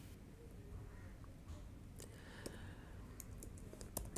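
A few faint, scattered keyboard clicks, light and quick, sound from a computer keyboard over a low background hum.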